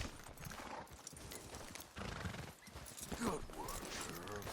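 A horse in Red Dead Redemption 2 gallops with a steady, rhythmic clip-clop of hooves and occasional whinnies, as someone speaks briefly over the hoofbeats.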